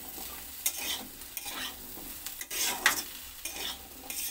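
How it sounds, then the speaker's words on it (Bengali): Potatoes and onions sizzle in a pan while a spatula stirs them in repeated scraping sweeps, each pass lifting the close frying hiss in a loose rhythm. "পেঁয়াজের সঙ্গে আলুটাকে আমি লাল করে ভেজে নিচ্ছি"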